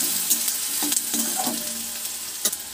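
Chopped onion frying in oil for a methi potato curry gives off a bright, close sizzle, with several short scraping stirs across the pan and no talk.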